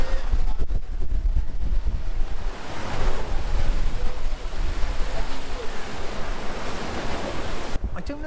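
Choppy open-sea waves rushing and churning below a cruise ship, a continuous loud wash of surf mixed with strong wind buffeting the microphone.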